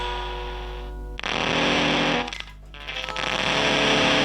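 Thick, buzzy germanium fuzz pedal guitar tone swelling up in volume via an expression pedal, briefly dipping away, then swelling back to a sustained distorted roar.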